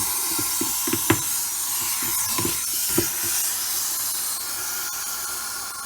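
Hot water pours into a 29-gallon aquarium tank, a steady hissing, splashy rush with scattered clicks and knocks, close by and without talk.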